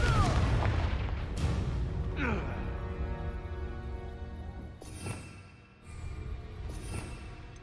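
A Confringo fire spell exploding in Hogwarts Legacy gameplay: a deep booming blast with rumbling low end and sharp bursts, trailing into a ringing, sustained game soundtrack, with a voice speaking briefly.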